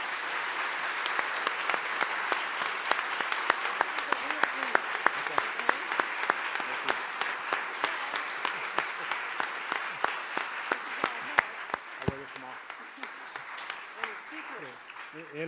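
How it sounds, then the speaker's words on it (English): A large audience at an aviation chapter speaker event breaks into sustained applause, dense clapping that carries steadily for several seconds before tapering off, with some voices underneath. "So let's give them a big round of applause."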